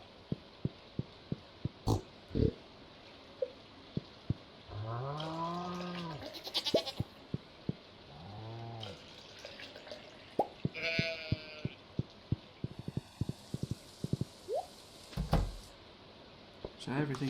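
Sheep in the Stardew Valley farming game bleat in several wavering calls, each about a second long, over a steady run of sharp clicking taps, with a few shorter cries near the end.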